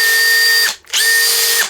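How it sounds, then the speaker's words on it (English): A compact Makita 18V cordless drill whirs at full speed with a steady, whiny motor tone, stops briefly, then spins up again for a second loud run, very close by. "It's a very small drill."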